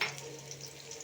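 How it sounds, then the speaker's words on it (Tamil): Onions dropping into hot oil with spluttering mustard seeds in a pan for a kadala curry give a brief, steady sizzle with faint crackles. It stays fairly quiet and even throughout, and nobody speaks. "இப்போ கடுகு வச்சுட்டு வெங்காயம் போட்டுக்கணும்."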